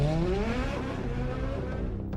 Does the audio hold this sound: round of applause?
no